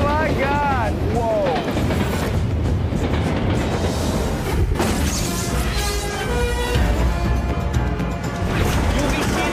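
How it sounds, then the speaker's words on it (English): A train roars loudly along the tracks with rumbling and clattering, while people talk excitedly over the noise during a TV stunt show. "this train comes racing down the tracks"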